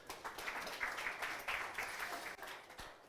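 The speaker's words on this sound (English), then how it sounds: "big round of applause for Greg Mowbray" A conference audience gives a round of applause for speaker Greg Mowbray, fairly faint but steady clapping sustained for a few seconds.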